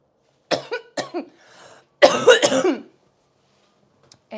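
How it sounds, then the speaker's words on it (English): A woman coughs in a close indoor room: two quick coughs, a brief pause, then a longer harsh burst of several coughs, with a faint start of another at the end. "I'm gonna cough."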